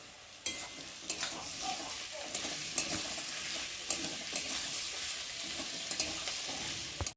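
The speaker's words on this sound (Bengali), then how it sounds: "কেটে রাখা আলুগুলোকে দিয়ে ভালো করে ভেজে নেব" Cut potatoes sizzle in hot oil in a pan for a bhola fish dish, a steady frying hiss punctuated by repeated scraping knocks of a spatula stirring them.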